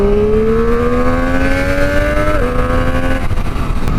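A Triumph Street Triple 765 engine revs loudly and continuously, its pitch climbing steadily, briefly dropping as if through a shift, then climbing again, close up with no voices.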